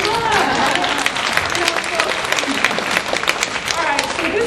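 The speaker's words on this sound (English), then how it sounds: "let's clap" Audience applauding at a guest speaker's talk to a college group, dense continuous clapping filling the room throughout.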